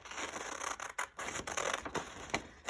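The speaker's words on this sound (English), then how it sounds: "it's time to go ahead and cut them out carefully with your scissors." Paper pictures being carefully cut out with scissors: irregular snipping and rustling strokes with brief pauses, close and moderately loud, no talking.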